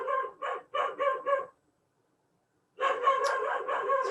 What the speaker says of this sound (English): Oh goodness, my dog's barking.